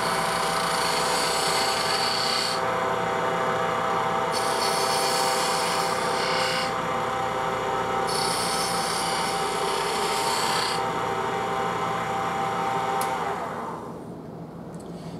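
A spindle gouge cuts a spinning wooden workpiece on a lathe, making a loud, steady, hissing scrape that runs continuously and shifts slightly in texture as the tool moves, then eases off near the end.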